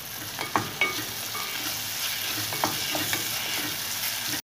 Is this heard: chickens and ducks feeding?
no